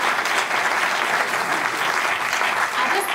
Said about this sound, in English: another round of applause to thank our two speakers